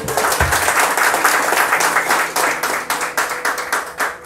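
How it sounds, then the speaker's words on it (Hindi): Audience at a Hindi poetry performance claps in a steady, moderately loud burst of applause that thins slightly toward the end, with no speech on top. "तालियों में दम नहीं दिख रहा है।"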